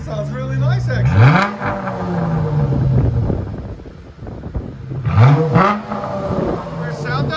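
Two strong throttle blips from a Dodge Challenger 3.6L V6 fitted with Big Boys Exhaust, each rising to a loud nearby roar before falling back to a deep idle, buffeted by wind on the microphone.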